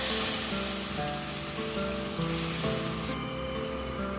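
Spice paste gravy for an eggplant dish bubbling and sizzling in a pan after water is added, a steady close hiss with soft frying crackle throughout.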